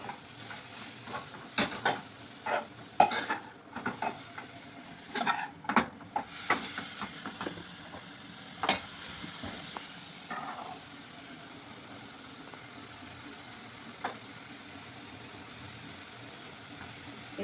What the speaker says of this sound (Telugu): నెయ్యి కొంచెం వేడైనాక ఈ క్యారెట్ అయితే ఫ్రై చేసుకోవాలి